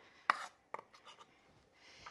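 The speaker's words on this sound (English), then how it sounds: "then you can chop your olive" A knife chopping olives on a board: a few crisp close knocks with small cutting scuffs between them, quiet, no voices.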